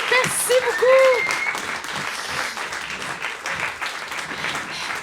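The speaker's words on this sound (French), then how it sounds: "On peut leur donner une bonne main d'applaudissement." A live audience at a French-language podcast recording bursts into sustained, dense applause lasting the whole stretch, with a brief whoop or voice near the start rising over the clapping crowd.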